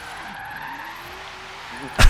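A drifting Ford Falcon XR8 in Forza Horizon 3 gives off a sustained tire squeal over its engine drone, ending in a sudden loud thump.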